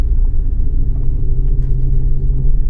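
A loud, low engine rumble fills a vehicle sitting in a fully stopped traffic jam in Dagestan, Russia. The idling drone holds steady with no talk.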